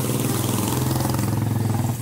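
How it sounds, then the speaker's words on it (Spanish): A motorcycle engine runs steadily and close by for the whole stretch, a loud, even mid-pitched drone with a faint rhythmic pulse as riders pass on a street in San Luis de la Reina, San Miguel. "Va la gente en su motocicleta."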